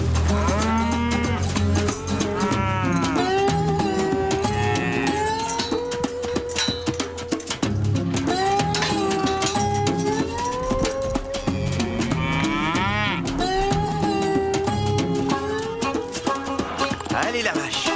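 Several cows moo loudly and close by, long drawn-out calls overlapping one after another in a near-continuous chorus across the whole stretch.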